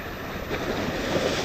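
Sea waves surging against a rocky shore at Okrim in Geoje, a steady rushing wash of surf with wind noise across the microphone, close and continuous.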